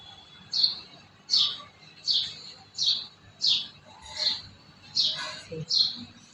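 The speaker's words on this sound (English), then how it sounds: "today in the morning see the birds chirping sound" A single bird chirps in the morning, with sharp, bright calls repeated at a steady pace of roughly one every second, close and clear with little else around.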